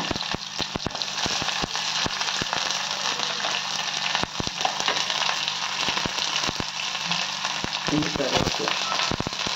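Onion and green chilli frying in hot oil, a dense crackling sizzle with sharp pops throughout, fairly loud and close, with a voice speaking briefly over it.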